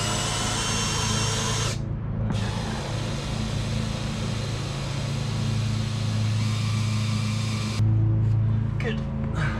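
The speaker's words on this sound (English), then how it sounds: "then I'll get my electric drill and we will buzz them out of here." A steady mechanical whir of an electric drill removing bolts on a sailboat runs throughout, with a brief break and a short burst of sharper rattling near the end.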